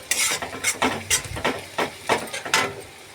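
Green chillies drop into a pan of browning onions and are stirred, with a soft sizzle under repeated scraping and clinking of a spatula. The strokes are close and loud and fall in a quick, uneven rhythm.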